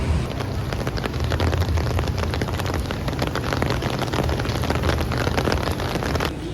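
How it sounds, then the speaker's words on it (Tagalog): Steady rain falls outdoors on a city street in Singapore, a dense, continuous hiss of drops on surfaces with a gusty, wind-buffeted edge, loud and close throughout with no one speaking. "Ulan guys. Kaya buti may dala kami payo."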